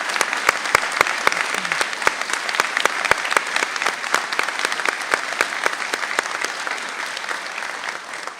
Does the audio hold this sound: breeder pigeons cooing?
no